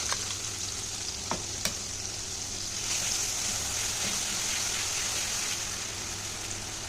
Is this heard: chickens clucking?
no